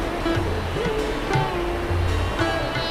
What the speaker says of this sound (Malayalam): നല്ല വെള്ളം ഒഴുകുന്ന സൗണ്ടും കേട്ടു.